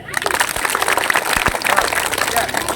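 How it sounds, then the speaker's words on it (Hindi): A crowd at a street magic show claps on request, a dense loud patter of applause running throughout with a few sharper individual claps standing out. "एक जोरदार ताली मारिए।"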